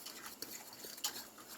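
A utensil stirs gravy liquid in a crock pot, giving soft, quiet scraping and sloshing with a couple of light clinks, no voices present.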